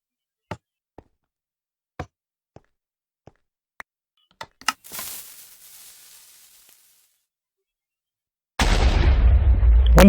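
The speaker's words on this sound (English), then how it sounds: "they'll hear an explosion here, then a few minutes later another explosion somewhere else" Minecraft TNT noise devices: a run of sharp, evenly spaced knocks, then a booming blast with a decaying rumble, a short quiet gap, and a second loud explosion that cuts in abruptly near the end.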